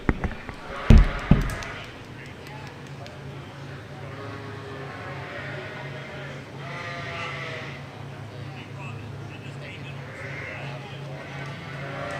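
Yearling ewes bleating in the ring at a youth breeding sheep show, with a few scattered calls over a steady crowded-hall murmur and a sharp clatter near the start.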